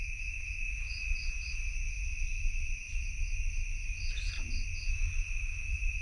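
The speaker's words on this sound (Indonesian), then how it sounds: "hanya terdengar suara jangkrik" Steady high-pitched cricket chirping fills a quiet night, continuous and moderately loud, with a low background hum underneath and no voices.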